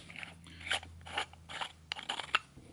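Two 3D-printed plastic pieces of a ventilator check valve are unscrewed by hand, giving a series of dry, quiet clicks and scraping rasps as the threads turn, spaced irregularly over a few seconds.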